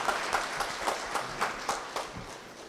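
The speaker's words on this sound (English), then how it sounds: "Let's give a loud round of applause for our panelists." Applause for the panelists at an actuarial society annual convention in Zimbabwe, a moderate crowd clapping with distinct rhythmic accents, heard somewhat distant and fairly quiet in a large hall.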